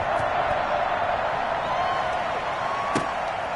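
A steady, dense roar of a stadium crowd in Madden 21 before a Panthers versus Chiefs game, continuous and fairly loud with faint whoops and a brief thump, a commentator's voice over it.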